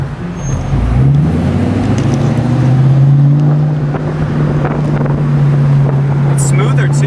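A 2003 Ford Mustang Cobra's exhaust holds a steady, loud low drone that climbs in pitch across a hard pull, with wind rush around it.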